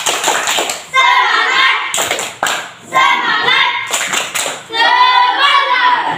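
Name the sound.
class clapping hands for two groups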